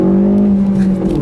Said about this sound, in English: got a little bit of wheel spin